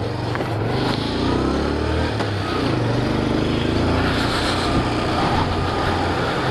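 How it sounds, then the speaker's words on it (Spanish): A Hero Ignitor i3S 125 cc motorcycle pulls away in first gear, its engine note rising steadily under constant close-up wind and road rumble. "acá se accionó el sistema, así que vamos a presionar el embrague y la moto va a arrancar"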